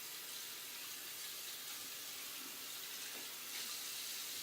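Steady running tap water splashing continuously as hands are rinsed after soaping, soft hiss with faint shifts as hands move under the flow, no voices.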